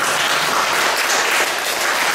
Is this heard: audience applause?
yes